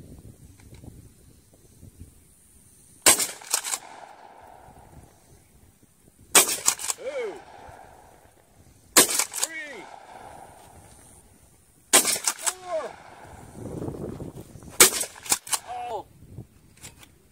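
A shotgun fires five separate sharp blasts spaced a few seconds apart outdoors, each crack loud and close with a short echo tail, while people talk and react quietly between shots.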